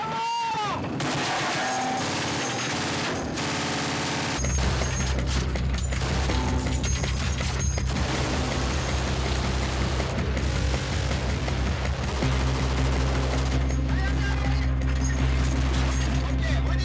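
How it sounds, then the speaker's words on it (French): Heavy weapons and a rapid-firing machine gun during French marine commando live-fire training, with loud, repeated bursts and booming reports continuing steadily after a quieter opening, and a voice audible in places. "déplacement tactique et tir à l'arme lourde"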